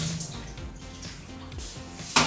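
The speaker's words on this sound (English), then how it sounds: "I'm gonna drain the water." Water drains out of a pot of boiled eggs into a kitchen sink, a splashing, trickling pour with light clinks of the pot and a sharper splash near the end.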